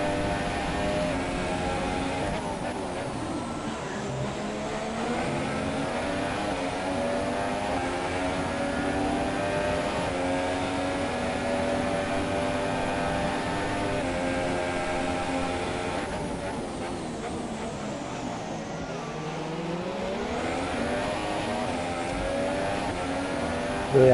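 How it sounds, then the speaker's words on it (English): An F1 car engine in the F1 2017 racing game at the Austrian GP screams at high revs, holding a steady loud whine that climbs through the early gears with brief dips at each upshift, continuous throughout with no talk. "Really high revving, really trying to get as much out of the early gears as possible"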